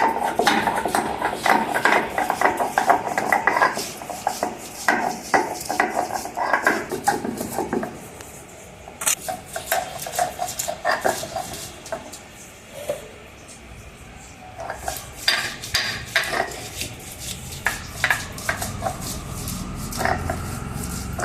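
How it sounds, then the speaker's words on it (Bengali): Spices being ground by hand on a traditional stone slab (shil), a steady run of rough scraping and knocking strokes, loud and close, with brief pauses between passes. "শিলে আমার বাটতে হবে।"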